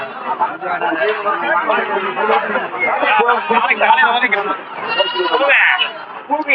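Goats bleat repeatedly amid a dense crowd of talking people at a busy Friday livestock market in Ettayapuram, the animal calls mixed into constant loud chatter.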